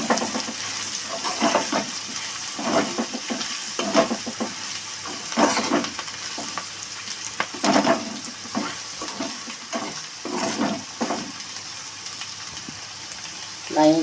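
Bean curry being stirred and fried in a pan, with a steady sizzle under repeated scraping and stirring strokes, fairly close and moderately loud, with no talk.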